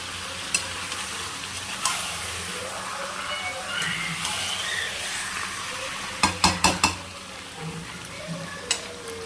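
Meat sautéing in a pan while being stirred, a soft steady sizzle broken by a quick burst of sharp utensil clinks and a few later taps.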